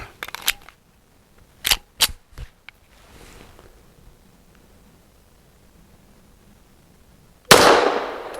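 Shots from an EAA Girsan Witness 2311S pistol firing Fiocchi Defense Dynamics 147 grain 9mm hollow point ammunition: a few sharp, close reports early on, then quiet, and a broad burst near the end.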